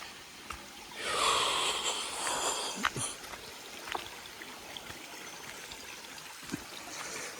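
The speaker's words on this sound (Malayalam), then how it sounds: "ചെറിയ അരുവികളാണ്" Small forest streams run beside the Sabarimala pilgrimage trail, a steady hiss of flowing water that swells for a couple of seconds, then settles back to a quieter, continuous trickle with occasional small splashes.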